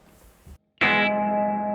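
Electric guitar through a Gamechanger Audio Light reverb pedal with its tone turned down: a short plucked figure, a brief silence, then a struck chord swelling into a dark, sustained reverb wash whose bright top quickly fades.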